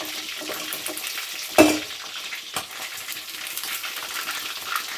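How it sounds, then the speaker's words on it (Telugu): Chicken pieces deep frying in hot oil give a dense, steady crackling sizzle throughout, broken by one loud clatter of a utensil and a few softer knocks, with no talking. "ఈ విధంగా కొంచెం డీప్ ఫ్రై చేసి మళ్ళీ దీన్ని ఫ్రై చికెన్ అయితే తీస్తున్నాండి"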